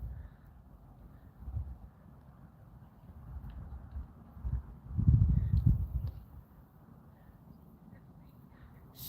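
Two horses at a rescue trot in a working session, hooves clip-clopping in a loose, irregular rhythm that grows louder midway, over low background noise.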